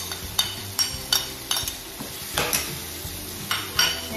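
Sweet potato frying with corned beef in a pan, a steady sizzle broken by a regular series of sharp scraping stirs of a utensil against the pan, close and moderately loud, with no talking.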